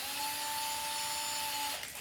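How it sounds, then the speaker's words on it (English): A power drill with an 1/8 bit bores slowly under pressure through metal while a bench vise is fitted to a Ridgid job site box, giving a steady close whine that cuts off near the end. "The key to drilling through metal, you don't want to drill fast, you just want to use pressure."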